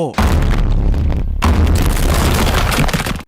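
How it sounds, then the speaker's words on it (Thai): A deep, sustained rumbling boom presses on after a brief gap, heavy and loud: Echoes' weight-pressing effect from JoJo's Bizarre Adventure. "เสียงกดน้ำหนักของเอ็กโค"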